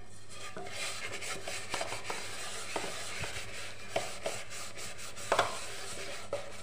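A stove top being scrubbed clean with cleaning liquid, a continuous low rubbing and scouring noise with scattered faint clicks and scrapes, close by and with no talking.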